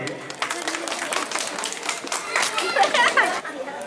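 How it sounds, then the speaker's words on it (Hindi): Neighbourhood crowd clapping to welcome a local speaker at a martyrs' remembrance evening program in Pathankot, steady moderate applause with chatter and voices mixed in throughout. "तालियों से इनका स्वागत करिए"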